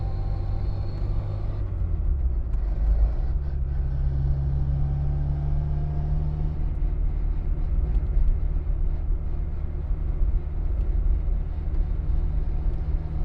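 A 1963 Austin Mini Cooper on the move, a loud continuous engine drone and road rumble heard from inside, with a brief shift in tone early on and no speech.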